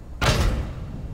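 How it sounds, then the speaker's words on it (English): A door in FNAF Help Wanted 2 bangs open with a single sharp, loud thud-and-rush of noise that lasts about half a second, then fades into a low, steady background rumble. "Yeah, open the door."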